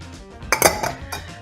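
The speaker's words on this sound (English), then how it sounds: "we'll need some ice in our glass" Ice cubes dropped into a cocktail glass for a coffee, Cointreau and tonic drink, giving a close, bright clatter and clink in two quick bursts.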